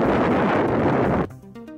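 Strong wind gusts roar across the microphone for just over a second, then cut off abruptly into quieter tonal sounds.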